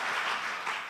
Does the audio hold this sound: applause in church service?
yes